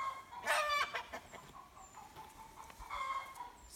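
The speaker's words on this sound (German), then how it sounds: "ihr hört, wir haben ein Ei gekriegt oder vielleicht auch zwei. Unsere Hühner sind ganz lebhaft." Lively farm hens cluck in short bursts near the start and again toward the end, faint and somewhat distant, with no talking over them.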